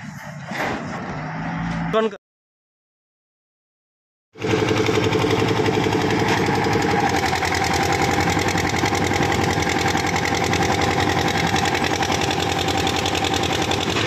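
A heavy construction machine engine runs steadily and loudly at a house-building site after a slab pour, a low continuous rumble that follows a short burst of noise and a couple of seconds of silence.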